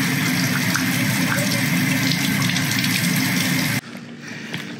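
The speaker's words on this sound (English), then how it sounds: "Water. A little bit of water." Water runs steadily from a tap in a home setting, loud and continuous with a broad rushing hiss, then cuts off near the end, leaving only quiet room sound.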